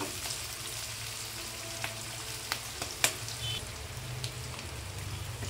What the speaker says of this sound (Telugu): మంచిగా వేపుకోవాలి ఇవి